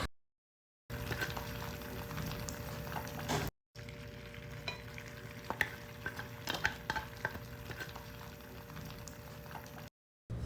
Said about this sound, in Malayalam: പിന്നെ നമ്മൾ നേരത്തെ റെഡിയാക്കി വെച്ചിട്ടുള്ള ആ ഒരു മുട്ട ഇതിലേക്ക് ഒഴിച്ച് കൊടുക്കാം